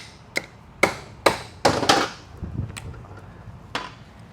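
Hammer tapping on a part of a Th400 automatic transmission in a shop, giving about six or seven sharp metallic knocks in an irregular rhythm, close and fairly loud, with no talking.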